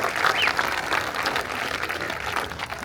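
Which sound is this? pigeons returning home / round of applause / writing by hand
round of applause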